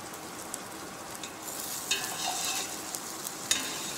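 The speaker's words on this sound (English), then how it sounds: "We'll roast them slightly more to get the deeper color." Ingredients for a brown stock roast in a pan: a soft, steady hiss with light crackles and occasional sharp ticks and pops, fairly quiet and with no talk.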